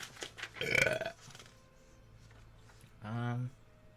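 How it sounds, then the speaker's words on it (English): A loud, drawn-out burp rings out close by during a tabletop role-playing session, followed moments later by a second shorter burp, with people chatting before it. "I like that burp. That burp was really well brought up."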